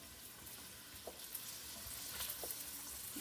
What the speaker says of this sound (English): you can hear that nice sound that the wine makes when it gets together with the food